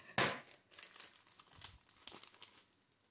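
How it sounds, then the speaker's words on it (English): Cheesecloth is pulled from its plastic package, with a sharp tearing rip followed by soft, close crinkling and rustling that stops before the end. "I'm just going to take it out of the package here"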